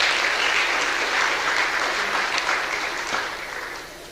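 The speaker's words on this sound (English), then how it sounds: "Please clap for them." Sustained audience applause at a media awards ceremony, a dense even wash of many hands clapping that holds steady and then gradually fades toward the end.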